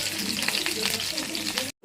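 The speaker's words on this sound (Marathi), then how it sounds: "तेल गरम झाले तर 3-4 लसूण घेतल्या होत्या त्या टाकून घेऊया। थोडासा कढीपत्ता तडतडला" Garlic and curry leaves sizzle and crackle in hot oil, a steady close frying hiss with small pops, ending abruptly.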